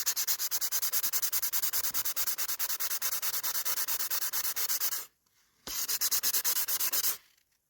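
Sandpaper rubs a rainbow boulder opal in fast, even back-and-forth strokes, loud and close, pausing briefly before a final burst of sanding.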